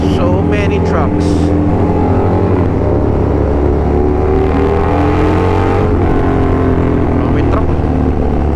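Loud, close road traffic with a heavy engine drone rolling past on a roadside near a Shell station in Mamplasan, a truck among the passing vehicles, with people talking over the noise.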